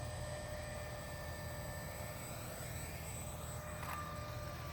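A remote-control AH-64 Apache model helicopter coming in to land gives a faint, steady whine with a thin high tone over a constant hiss, with one short brighter sweep near the end and no speech.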